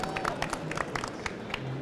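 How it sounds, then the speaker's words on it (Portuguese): Applause from a live audience at a Brazilian internet conference panel, scattered claps and crowd noise rising steadily under a busy room, fairly close and moderately loud for a short burst. "Salva de palmas."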